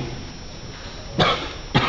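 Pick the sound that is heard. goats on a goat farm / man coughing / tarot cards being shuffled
man coughing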